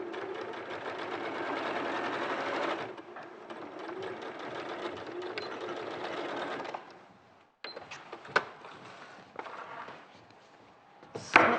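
A sewing machine stitches fabric close to the edge, running in a loud, continuous whirring burst for several seconds, then slowing into shorter runs separated by brief pauses and clicks.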